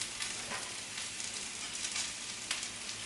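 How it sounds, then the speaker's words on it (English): Garlic sizzles steadily in a hot pan with celery and onions, a close, even hiss with a few brief crackles throughout. "I'm going to just throw this garlic in."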